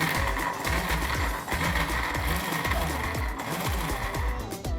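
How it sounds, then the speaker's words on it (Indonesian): A food processor whirring steadily as it blends cashew cream with lemon, with a continuous motor drone and rhythmic churning pulses, close and fairly loud, alone without voices. "Kalau ini sudah masuk semua, maka kita bisa nyalakan food processornya"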